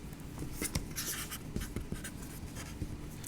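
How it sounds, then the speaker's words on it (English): Pen or marker scratches steadily across a surface while the givens of a geometry proof are written out, close and clear with short strokes and taps, and nobody speaks. "Well, first let's write down what we're given."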